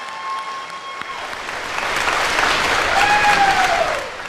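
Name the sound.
audience applause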